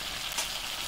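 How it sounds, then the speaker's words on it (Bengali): Masala paste of cumin, dried red chilli, green chilli paste, turmeric, salt and sugar sizzles steadily in hot oil in a pan, a continuous close frying hiss with a slight swell partway through, no voices. "ভালো করে মশলা কষিয়ে নেব।"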